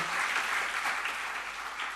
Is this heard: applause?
yes